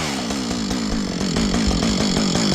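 Chainsaw running at close range, a loud steady buzzing engine drone with slight rises in revs, alone without talk.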